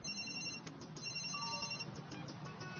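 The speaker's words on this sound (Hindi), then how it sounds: "शायद मुझे मेरे अल्टीमेट सेल फोन को अल्टीमेट वाइब्रेशन मोड पर रखना चाहिए" A cell phone rings in an animated Ultimate Spider-Man episode, a steady electronic ringtone repeating over a dense, continuous background of sound effects.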